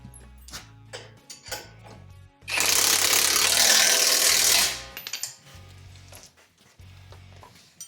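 Close, sharp metallic clicks and knocks come from a ratchet fitted with a swivel as it works a bolt on the front axle of a 2016 Jeep JKU Rubicon. One loud, dense burst of grinding noise lasts about two seconds in the middle.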